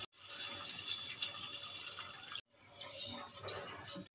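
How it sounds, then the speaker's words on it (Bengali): Water is poured into a pan of spice mix fried until the oil separates, for a gourd-leaf and chana dal fritter curry. A steady, soft rushing pour breaks off briefly, then resumes. "এবার আমি দিয়ে দেবো পরিমাণ মতন জল।"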